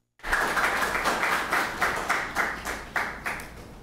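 An audience applauding Elijan during a Radio Télé Pacifique broadcast, clapping that starts abruptly and continues in uneven rhythmic bursts, fairly close and moderately loud.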